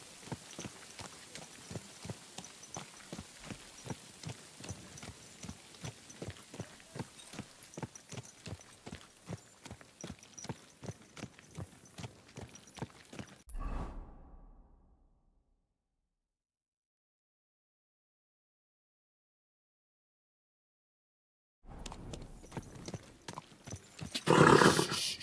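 Horse hooves in the Kingdom Come: Deliverance II video game make steady, rhythmic clip-clop steps for about fourteen seconds, then fade to silence. A louder burst of noise follows near the end.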